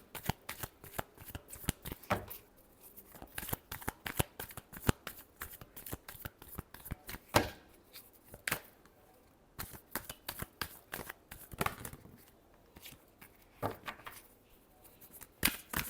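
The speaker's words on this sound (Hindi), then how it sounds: "Last shuffle." Tarot cards being shuffled by hand for a Scorpio reading, with a quick, continuous run of crisp riffling and flicking slaps, close and fairly quiet, with no talk.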